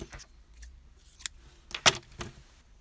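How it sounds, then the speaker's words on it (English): Scissors cut crochet yarn close by, a few soft snips and a single sharp metallic clip near the middle, with quiet handling noise between them. "now all you have to do is cut the yarn"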